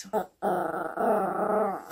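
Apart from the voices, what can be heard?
dog growling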